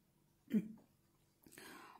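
A single soft, muffled cough close by in a quiet room, followed a moment later by a faint breathy sound.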